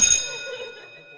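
A single bright notification bell ding strikes sharply at the start, then its metallic tone rings on and slowly fades away, heard clearly and alone.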